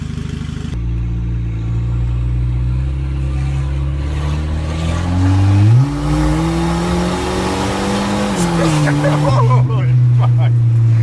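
A Volvo 740 with a stock red block engine and 330,000 km accelerates hard, its low engine note rising through gear changes and holding loud and close for about eleven seconds, with occasional talk over it.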